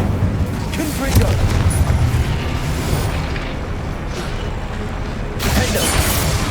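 Confringo blasting spell cast in the Hogwarts Legacy video game, a sustained loud booming, rumbling burst of explosive noise that swells again near the end, with no talk over it.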